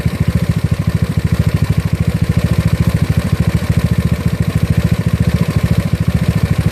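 A GY6 scooter engine with a 30mm OKO PWK carburetor idles loudly and close by during carburetor tuning, its fast, even pulsing exhaust thrum holding a steady rhythm throughout with no voices over it.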